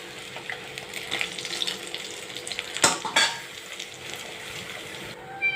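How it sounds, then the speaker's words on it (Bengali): Rohu fish pieces frying in hot oil give a steady, close sizzle with light crackle and a brief louder clatter of a pan or utensil midway, no voices. "মাছগুলো লাল লাল ভাজা হয়ে গেছে, এবার আমি উঠিয়ে নেব।"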